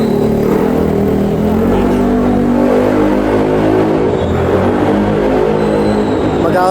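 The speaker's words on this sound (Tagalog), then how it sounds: "Karinig pa tayo ng ganong klaseng exhaust." A loud, steady engine rumble with throaty exhaust at a JDM car show, swelling slightly as if revved, carrying on without pause and close by.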